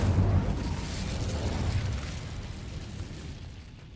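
Incendio fire spell cast in Hogwarts Legacy, a whooshing fiery burst that flares up loudly and trails off over a few seconds.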